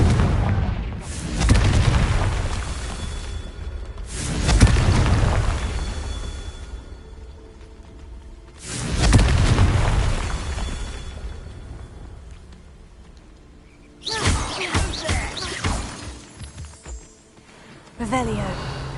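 Confringo spell blasts from a Harry Potter-style video game land as heavy booming explosions, three big rumbling hits spaced a few seconds apart. A sharper crackling burst comes near the end.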